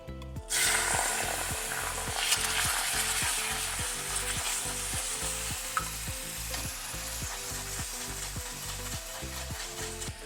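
Bourbon caramel sauce with butter bubbling and sizzling steadily in a pan on low heat, a continuous close simmering hiss with occasional stirring scrapes over background music.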